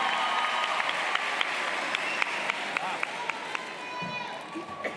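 A graduation audience applauds the salutatorian in a large hall, a dense sustained wash of many hands clapping with scattered sharper claps and some cheering mixed in.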